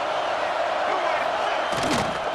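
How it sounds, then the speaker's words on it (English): A football stadium crowd roars for the defense on a big third down, a dense, constant wall of cheering that swells briefly near the end. "Big third down as the crowd gets behind this defense."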